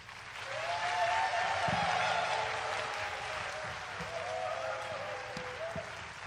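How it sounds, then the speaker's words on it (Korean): A crowd at the opening ceremony of a national student conference claps and cheers loudly, with steady applause and raised voices filling the whole stretch. "열렬한 환호와 박수 부탁드립니다."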